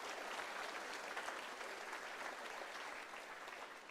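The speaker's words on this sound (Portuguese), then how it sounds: "E uma salva de palmas para o Senhor." A church congregation in Manila applauds steadily during a worship service, a soft, distant wash of many hands clapping that holds evenly and fades slightly toward the end.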